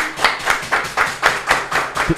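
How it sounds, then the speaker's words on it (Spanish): Rhythmic clapping during an interview show, steady evenly spaced claps at a brisk pace, fairly close and loud, with no talk over them. "Un aplauso a mi hermano."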